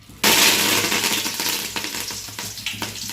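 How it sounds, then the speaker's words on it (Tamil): Curry leaves dropped into hot coconut oil for tempering, a loud sudden sizzle that bursts in and crackles steadily, slowly easing off with a few sharp pops scattered through it. "தேங்காய் எண்ணெயிலே தாளிக்கிற?"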